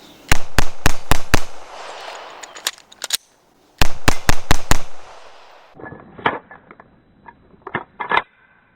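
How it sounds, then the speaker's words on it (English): Handgun fired in rapid bursts of sharp, loud, close shots, a short volley, a pause, then another volley, followed by metallic clicks and clacks of a magazine being swapped and the slide pulled back. "fire, fire, fire, gun goes empty, I reload, magazine out, magazine in, okay, and then I come over the top, pull that slide back"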